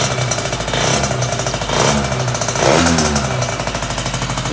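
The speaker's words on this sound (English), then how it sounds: "we don't rev it up more than this when I'm heat cycling" A two-stroke scooter engine held at a moderate rev during heat cycling, its buzzy note rising and falling in a few gentle surges, close and loud with no speech.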